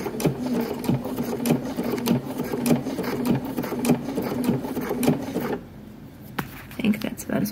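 A home sewing machine stitches swim trunks in rapid mechanical bursts, pausing at points for backstitching; the whirring runs steadily, then stops briefly near the end before resuming, with a voice talking over it.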